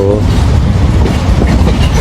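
Pakistan Railways passenger train pulling out of Gujar Khan station on a rainy day, a loud steady rumble of wheels and carriages with low rail clatter filling the whole stretch.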